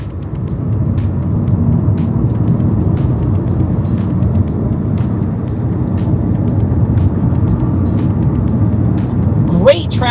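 A 2027 Chevrolet Bolt electric car driving at road speed gives a steady, loud broadband rumble of tire and wind noise, continuous throughout, with a brief sharper sweep near the end.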